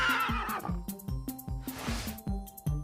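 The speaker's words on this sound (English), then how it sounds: "Some people are allergic to horses." A horse neighs loudly in a long shrill whinny, heard close over a steady rhythmic clip-clop of hooves with a repeating musical pulse underneath.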